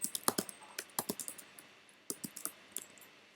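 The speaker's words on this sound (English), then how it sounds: "I'm going to type it instead of like copy pasting" Computer keyboard keys typed in irregular bursts of sharp clicks while entering code, close and fairly quiet, with a short pause in the middle.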